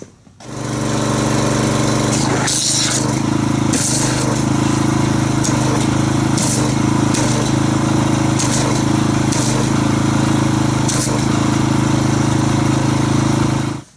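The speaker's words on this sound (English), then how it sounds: "So I'm going to go ahead and get my pressure washer and see how this foam will activate when we do that." Gas-powered pressure washer running near a 2015 Honda Accord being foamed with Chemical Guys Glossworkz Auto Bath, a loud, steady engine drone holding for the whole stretch, with brief spray bursts on top and no talking.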